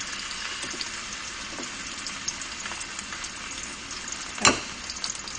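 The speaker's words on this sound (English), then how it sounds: "Now it's sizzling." Steady crackling sizzle of Korean BBQ meat frying in a skillet, with a brief sharp pop or clatter near the end; no talking.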